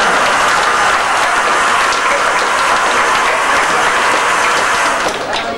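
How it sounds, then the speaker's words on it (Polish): Wedding guests applauding in a steady, dense wash of clapping that holds at full strength for several seconds and eases slightly at the very end. "Duże brawa dla pań i panów."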